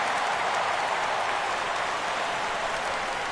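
A stadium crowd in a baseball video game roars steadily at a full three-two count, a dense continuous wash of cheering with no talk over it.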